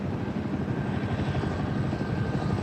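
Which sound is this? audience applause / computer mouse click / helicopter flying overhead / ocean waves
helicopter flying overhead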